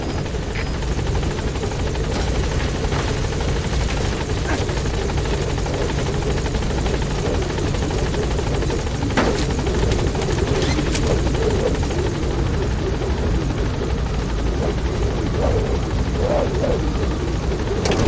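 In the Metal Gear Solid video game, a helicopter hovers at a landing zone with loud, continuous rotor chop and a whining turbine, steady and close throughout with no voices.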